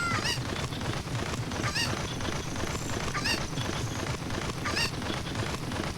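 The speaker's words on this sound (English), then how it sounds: "Grab your chicken." Chicken clucking in the video game The Legend of Zelda: Ocarina of Time, repeated squawks in a quick rhythm over steady background game noise.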